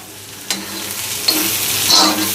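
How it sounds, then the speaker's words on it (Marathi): Dried jawla shrimp are stir-fried on a tawa in Malvani style, with a close, bright sizzle and a few scraping stirs. "जवला तुम्ही इथे झाकण ठेवला की एक एक दोन दोन मिनटांनी तुम्ही तो परतत राहा"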